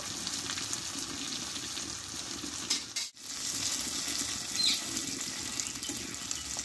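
Stuffed flat beans (sheem), turned over in a frying pan, fry with a steady, close hiss of sizzling oil and a brief dip partway through.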